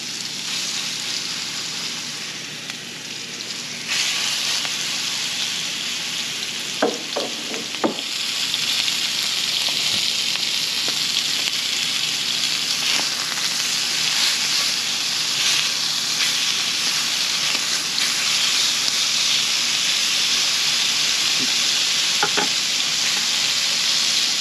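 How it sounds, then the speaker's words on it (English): Pork medallions hit hot olive oil in a pan, setting off a loud, steady sizzle that holds for the whole stretch with occasional brief clicks and pops. "to our hot pan, I'm going to add a little olive oil. And then we have our pork medallions."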